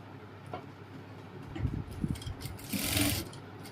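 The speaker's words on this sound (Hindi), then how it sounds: "अब ये बैक का गला, इसको हम पलट सिलाई मार लेंगे" A sewing machine runs a turned-back stitch along the back neckline of a lined princess-cut blouse, with soft intermittent ticking bursts that grow into a steadier, louder run near the end.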